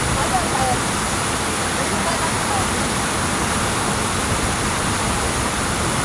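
Constant broadband rush of a river flowing in the mountains, loud and close, with no break or change across the whole stretch.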